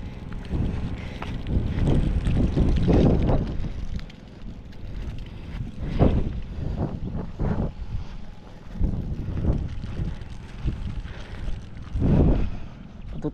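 A Robin engine, likely a small water pump motor on a farm plot, runs steadily with a low rumbling drone and gusty, wind-buffeted surges, close and fairly loud throughout.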